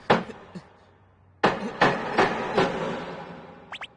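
A hammer strikes a shelf being fixed in a series of sharp knocks, two quick hits, a pause, then four fairly even blows and a few light taps at the end.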